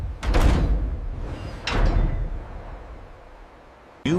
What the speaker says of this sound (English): Watertight doors are tested, sealing with a heavy thud.